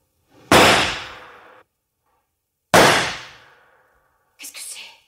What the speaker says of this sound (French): Ah ben, vous avez entendu, on a tiré.